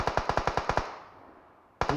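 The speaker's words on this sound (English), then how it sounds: "Where the hell is he shooting from?" Machine gun fire in PUBG on the Sanhok map, a rapid burst of about eight sharp evenly spaced shots, a ringing decay, then another burst starting, loud and close with no talk.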